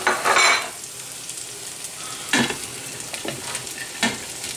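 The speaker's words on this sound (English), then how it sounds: "Really give this a good stir" Onions, peppers, julienned squash and zucchini stir-frying with garlic and ginger. Firm scraping strokes come at irregular intervals over a constant sizzle, with no voices.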